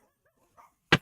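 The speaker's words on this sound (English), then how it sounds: "What are they both barking at?" A pair of dogs let outside on a hot day gives a single loud, sharp bark near the end, after a fainter muffled yelp, with quiet between.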